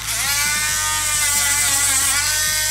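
Electric nail grinder trimming a dog's nails, a steady high-pitched whine with a constant tone and slight pitch wavering, close and loud throughout.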